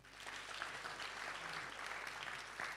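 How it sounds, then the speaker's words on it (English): Faint, distant applause from students at a college orientation, a steady muffled patter of many hands heard from afar with a slight swell near the end. "Would you clap for him?"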